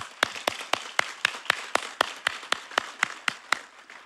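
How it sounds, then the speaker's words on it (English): Slow, evenly spaced single claps ring out at a fire academy graduation ceremony, about four per second, crisp and close, with no crowd roar behind them. "let's give her another big round of applause"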